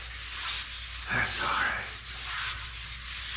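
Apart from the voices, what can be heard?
sanding wood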